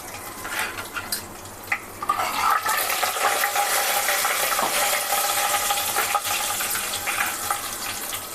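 Ingredients for tomato pickle sizzle and crackle in hot oil, a steady frying hiss that swells after a couple of seconds and carries on without talk, broken by occasional stirring clinks.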